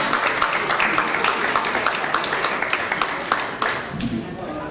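A comedy club audience applauds as a comedian is welcomed to the stage, with steady, dense clapping that fades a little toward the end.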